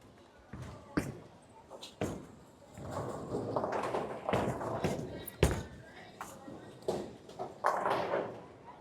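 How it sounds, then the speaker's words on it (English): Bowling ball thrown by a beginner bowler down the lane toward the pins, heavy thuds and a rolling rumble with clattering impacts, echoing in a bowling alley while someone talks over it. "I'm going to throw a shot that I know is going to miss on the right side of the head pin"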